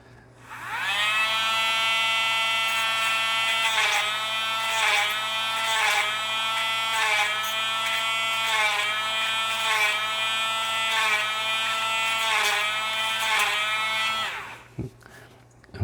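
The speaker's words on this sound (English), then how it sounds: "I took this small Dremel bit and basically just cleaned out all the holes" A small Dremel rotary tool bit cleaning out holes, probably in a Commodore SX-64 keyboard cable part, whines steadily and loudly for about fourteen seconds with slight pitch wobbles as it bites, then stops abruptly.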